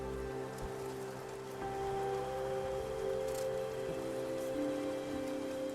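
Steady rain patters on surfaces in the video game Infinity Nikki, a quiet, even wash of drops continuing throughout under faint background music.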